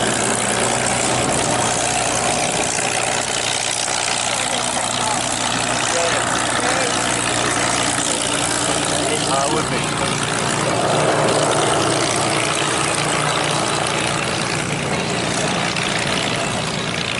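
Radial propeller engines of a PBY Catalina and two Douglas DC-3s at a warbird air show, a loud continuous droning roar that holds steady throughout, with faint talk underneath.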